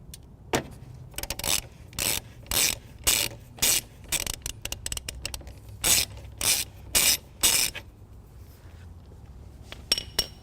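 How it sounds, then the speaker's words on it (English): A ratchet wrench loosens the positive battery terminal nut on a 2018 Dodge Journey, giving close, dry clicking bursts in a steady back-and-forth rhythm, about a dozen strokes with short pauses between them. "Loosen our positive terminal."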